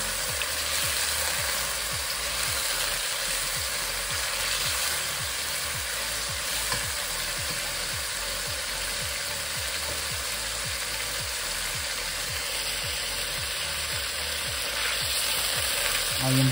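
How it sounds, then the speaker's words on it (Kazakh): Onions and meat fry in hot oil for a Kazakh zharkoe, giving a dense, continuous sizzle with steady crackle throughout and no talking. "Майды етті қуырып алғаннан кейін пиязымызды саламыз."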